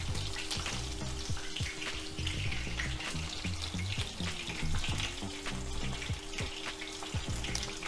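Beef chapli kabob frying in hot oil at around 350 degrees, a continuous loud bubbling sizzle with dense crackling pops and an underlying low hum, steady throughout.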